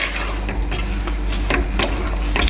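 Beetroot pieces are stirred in about 200 grams of hot oil for a beetroot lemon pickle, giving a steady close sizzle with scraping and clinking against the pan and no talk over it.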